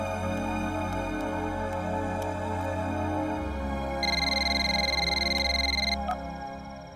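A telephone rings with a steady electronic tone for about two seconds, fairly clear over a low background hum, then stops.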